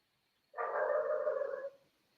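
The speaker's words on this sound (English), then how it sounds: "forgive the dogs. In my background" Dog barking in the background of a home during a morning call, one sustained muffled bark-like burst lasting about a second, moderately loud, with no talk over it.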